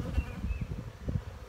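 Honeybees buzz around an open, healthy hive packed with pollen and brood, a close, steady drone with a few brief louder passes of single bees and no talking.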